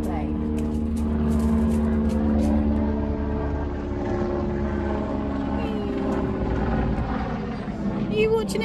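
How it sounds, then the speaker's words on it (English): A low-flying aeroplane passes overhead outdoors at a horse eventing venue, its steady engine drone loud and sustained beneath someone talking throughout. "Oh, that is a low plane."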